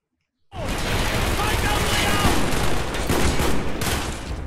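Sustained gunfire in the video game Call of Duty: Black Ops starts abruptly after a short silence and then continues loud and dense as a fusillade with rapid overlapping shots.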